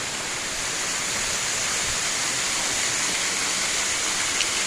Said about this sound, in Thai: เป็นแหล่งน้ำตก อีกที่หนึ่งในอำเภอกุนหานครับ ที่มีความสวยงามนะครับ